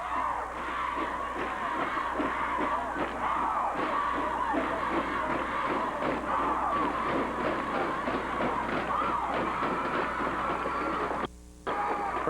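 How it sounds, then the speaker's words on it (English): Tiger fans roar at a high school basketball state tournament game, a dense sustained crowd cheer with whoops and yells that holds steady, then briefly drops out near the end. "Tiger crowd going crazy."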